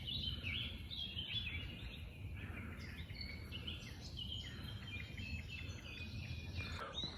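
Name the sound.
bird song under a canopy of trees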